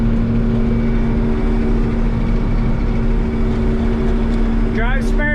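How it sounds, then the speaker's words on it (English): A combine harvester travels down a road near its top speed, its engine a loud, steady drone with a constant low hum; a faint rising whine enters near the end. "Almost 16 is about as fast as I can get this combine to go."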